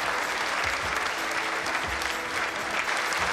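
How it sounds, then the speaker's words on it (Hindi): Audience applause welcoming a speaker onto the stage at a motivational talk, a steady dense wash of clapping that holds evenly for the full span with no voices over it. "तो आपकी जोरदार तालियों के साथ सम्मान में आमंत्रित करना चाहूंगा सुरेश भार्गव जी को।"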